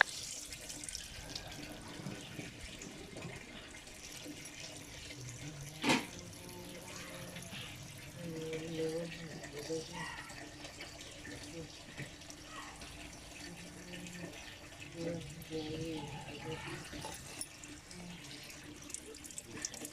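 Water pours from a tap into lamb lungs and liver in a home kitchen, a continuous trickling splash with a few sharper drips and knocks heard up close.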